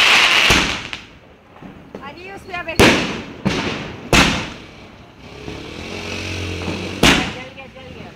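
Firecrackers go off outdoors in four sharp, loud bangs spaced a couple of seconds apart, with people talking and calling out between the blasts.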